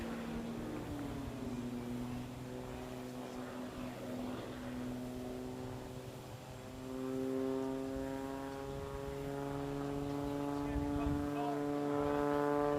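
Aerobatic airplane at an air show making a high-speed pass and pulling up into the vertical, a sustained droning engine and propeller tone that rises in pitch and grows louder toward the end.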